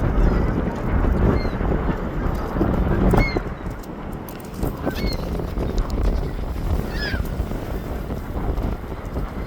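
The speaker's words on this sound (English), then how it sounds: "ooh, it's so windy" Strong wind at Harbor Beach Lighthouse buffets the microphone in a constant low roar, with faint distant calls and bumps scattered through it.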